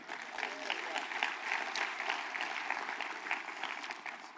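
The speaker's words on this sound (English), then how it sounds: "give yourselves a round of applause on that this morning" Church congregation applauding at a Thursday morning conference service in San Antonio, a steady wash of many hands clapping at moderate distance, sustained throughout with some talk mixed in.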